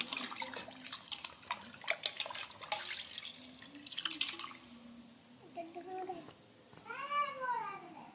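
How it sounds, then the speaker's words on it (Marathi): Water splashing and sloshing in irregular bursts as raw chicken is rinsed by hand in clean water, with a voice talking over it. "आता हे चिकन आपण स्वच्छ पाण्यानं 1 ते 2 वेळा धुवून घ्यायचं"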